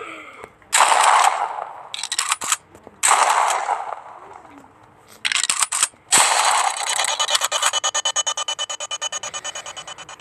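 Repeated pistol gunfire in the Stick Warfare Blood Strike video game: several loud bursts of shots with pauses between, ending in a rapid run of evenly spaced cracks that fade slightly.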